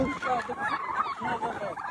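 Several turkeys in Albania gobble in quick, warbling bursts, close and fairly loud, with no pauses between calls.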